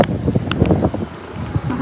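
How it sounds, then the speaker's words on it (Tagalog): Gusty wind buffets the microphone outdoors on a cold walk toward a station, a continuous low rumble with rustling swells and a few brief sharper gusts, loud and close throughout. "Mahangin dito guys,"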